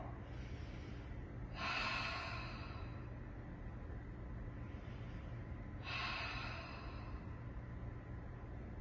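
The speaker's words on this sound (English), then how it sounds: "Pretend you're fogging a mirror on your exhale." During a gentle yoga class, two slow, breathy exhales like fogging a mirror rise above a steady low room hum, evenly spaced about four seconds apart.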